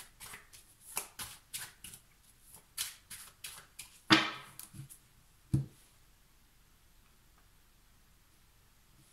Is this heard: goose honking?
no